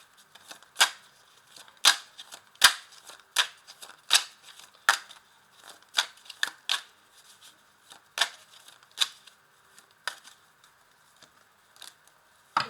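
Tarot cards are handled and drawn from a deck, making a regular series of short, crisp snaps and flicks close by, with soft shuffling between them.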